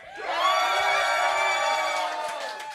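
A studio audience in a radio sound lounge cheers, one sustained swell of whooping and shouting voices that rises quickly, holds for a couple of seconds, then fades slightly, fairly close and loud.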